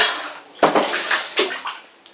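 Water running and splashing in a home bathtub during ferret bath time, with a steady wash of noise and a few sharper splashes and gurgles, fairly close.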